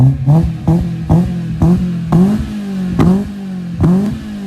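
A Peugeot 406 with a damaged exhaust line revs repeatedly, giving about eight sharp, loud throttle blips in a steady rhythm with the engine settling back to idle between each.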